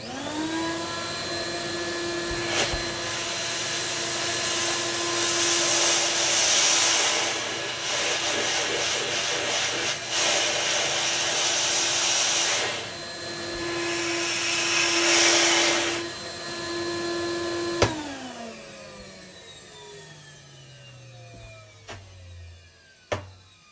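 A central vacuum system, just reassembled after cleaning and emptying, runs with a loud steady motor roar and high whine for about seventeen seconds, then spins down with a falling pitch into near silence, broken by a few clunks.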